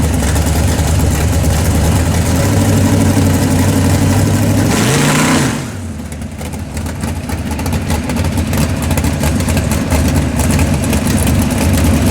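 A rough, loud carbureted engine idles unevenly with a wet, gargling burble as it floods, briefly surging then dropping into a lower, sputtering idle.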